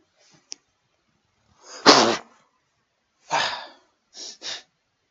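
A single sharp sneeze bursts out near the start, followed by a couple of quick breathy exhales and short sniffs in a quiet room.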